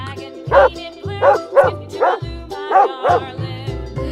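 Dog barking repeatedly up close, around six to eight sharp yips and barks in a steady, uneven rhythm over a few seconds, alone without talk.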